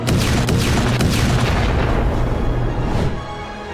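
Explosions from an Iranian attack in Dubai, near Zayed International Airport, roll as a loud, continuous rumbling of booms that eases off slightly near the end.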